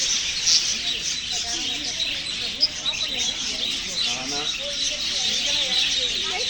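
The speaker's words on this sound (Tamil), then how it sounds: "ஃபுல்லு லவ் பேர்ட்ஸ் பாருங்கள்." Lovebirds in a zoo aviary chirp continuously in a dense, high-pitched chatter of many small birds, with one brief sharper call standing out near the start; faint voices murmur underneath.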